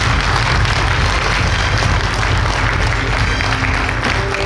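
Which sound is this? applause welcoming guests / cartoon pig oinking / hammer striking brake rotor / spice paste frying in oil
applause welcoming guests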